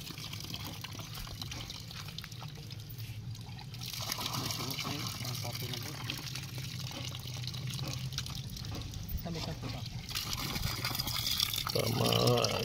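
Water gushing and splashing from a newly dug hand-pumped well, still muddy, in a steady pulsing stream that swells louder toward the end, with people talking over it.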